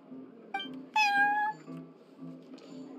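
Little Prince, the cat of Cat's Tail in Genshin Impact, gives a short chirp followed by a clear, drawn-out meow, close and fairly quiet over a low background hum.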